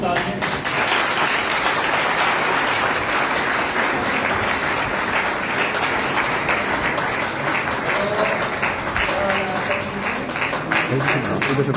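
A large audience at a revival meeting breaks into loud, sustained applause, dense clapping rolling on steadily throughout with voices mixed in underneath.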